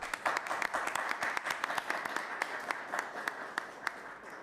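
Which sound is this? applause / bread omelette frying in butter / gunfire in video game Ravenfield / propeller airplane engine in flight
applause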